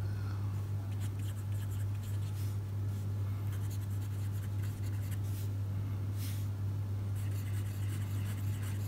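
A fountain pen with a broad nib scratches across paper in short, soft strokes with brief pauses, faint against a steady low hum.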